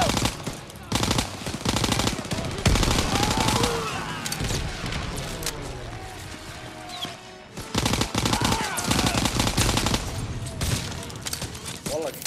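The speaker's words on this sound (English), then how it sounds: "Cover fire from the left!" Sustained machine gun fire in Call of Duty WWII, with long loud automatic bursts broken by short lulls and scattered shots, while battlefield voices shout beneath the shooting.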